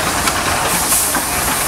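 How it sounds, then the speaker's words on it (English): A steam traction engine runs low, with a loud, broad hiss of escaping steam and a soft mechanical churn beneath, close and steady. "you got the steam engine low, and it sounds terrific"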